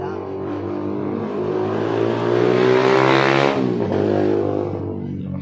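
A motorcycle engine revs loudly and steadily, its tone climbing to a peak and then easing back down, close by and filling the whole moment.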